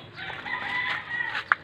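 A rooster among about twenty caged chickens crows in a drawn-out call over steady clucking, ending with one sharp, louder cluck.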